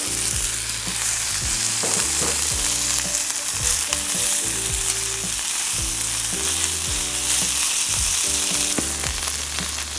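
A potato and onion mixture fries in hot olive oil with a loud, continuous crackling sizzle, joined by a low rhythmic tonal hum beneath it throughout.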